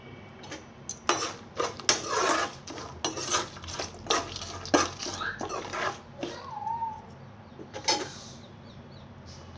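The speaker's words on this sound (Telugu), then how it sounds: "ఇప్పుడు రైస్ కలిపేసుకుందాము." Spoon stirring and mixing lemon rice in a metal pot, a series of irregular scraping clinks and knocks close by, with short pauses between strokes.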